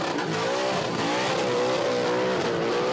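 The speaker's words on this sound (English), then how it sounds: "Giving that limiter a fair old hiding is Lynchy." Burnout car bouncing off the rev limiter at a Red CentreNATS event, tyres shredded: a loud, continuous engine howl with stuttering, wavering pitch, buried in dense roaring tyre and crowd noise, far from a quiet background.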